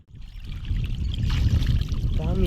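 Water pours and trickles through an opened channel in a field during a fishing outing, a close rushing flow that swells quickly after a brief silence, with a voice speaking over it near the end.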